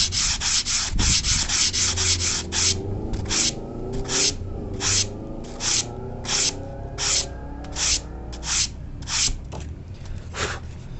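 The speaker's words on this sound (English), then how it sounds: "we're actually going to just sand the wing like this" Sandpaper rubs the back edge of a small foam delta model wing in about fifteen short, evenly spaced strokes, each a close, dry rasp with brief pauses between.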